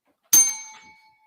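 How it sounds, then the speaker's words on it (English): A single bright bell ding struck once, sharp and close, with a clear metallic ring that fades out over about a second in an otherwise quiet moment. "I'm just getting my own damn bell."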